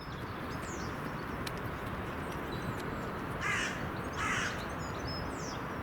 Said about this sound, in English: seagulls are attacking it